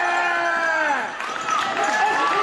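A crowd at an NYCW tag team gauntlet wrestling match cheers and shouts loudly and steadily, with high-pitched individual yells standing out over the sustained roar.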